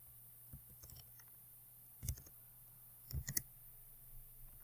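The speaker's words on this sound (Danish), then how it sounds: "Og trykker Escape." A computer keyboard's Escape key being pressed gives a few soft, close clicks over a faint steady room hum, with no one speaking.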